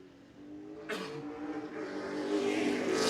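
A race car accelerates at Lee USA Speedway in New Hampshire, its steady engine drone surging louder near the end as it builds speed, with crowd and track noise in the background.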